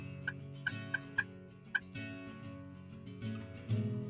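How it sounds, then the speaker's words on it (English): Wild turkeys gobble in Nebraska woods during a chilly late-April hunt, several sharp gobbling bursts ringing out in quick succession at moderate distance, followed by lower, rougher calls near the end. "the birds are gobbling great"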